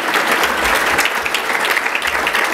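A room full of people applauds guests at a 2016 Gresham State of the City address, loud and continuous clapping with a steady, dense texture from start to finish.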